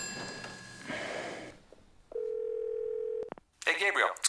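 A telephone call tone sounds as a steady held beep while the call goes unanswered, clear and close, with short bursts of voice before and after it.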